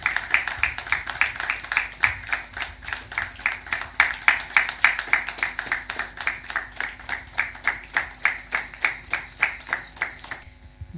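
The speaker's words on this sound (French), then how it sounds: "Nous allons recevoir ici, avec des applaudissements bien nourris, Dr K. Isman Tchaboutou" Audience at a nursing sciences talk claps in a strong, rhythmic unison beat, steady pulses for most of the stretch before breaking into looser applause at the end.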